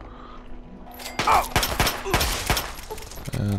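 Gunfire in Fallout 3 goes off as a burst of several sharp, loud shots in quick succession over a quieter game background.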